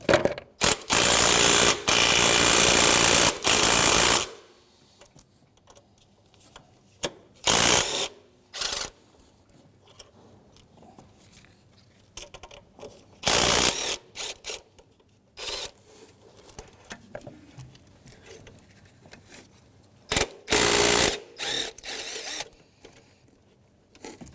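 A ratchet wrench loosens the 12mm throttle body bolts on a Mitsubishi Outlander, sounding as loud bursts of rapid clicking. The bursts come between quieter gaps of handling noise and small metallic taps.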